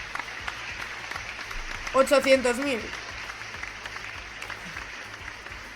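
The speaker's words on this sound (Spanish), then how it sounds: "Un aplauso por esa reflexión a Celsius." A studio audience gives a round of applause, a soft steady patter of clapping running beneath a voice that briefly rises over it.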